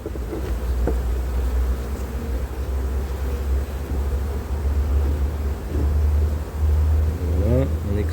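Honeybees buzz around a hive being moved by a beekeeper, a loud continuous drone with wind rumbling against the microphone.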